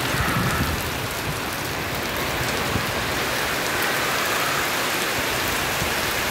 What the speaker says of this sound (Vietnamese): Mưa đang mưa lớn rồi.